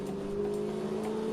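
Car engines hum steadily in the background of a drive through a checkpoint, a continuous low drone with no distinct pass-by or break.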